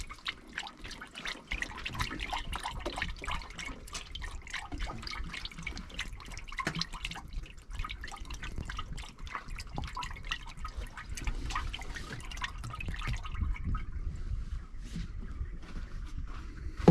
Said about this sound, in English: we're going to start dumping antifreeze back in it